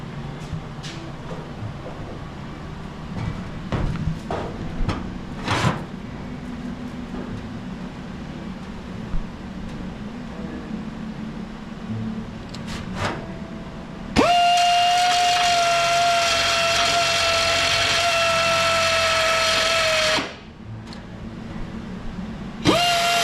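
A grinder bites into the metal of a chopped windshield post on a 1937 Ford custom cabriolet, a loud steady high whine holding for about six seconds before cutting off, amid quieter shop clatter.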